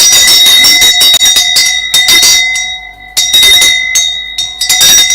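Church bells of St. Peter's Basilica and churches across Rome ringing loudly and close, a dense clanging peal with steady ringing tones and brief dips between strokes.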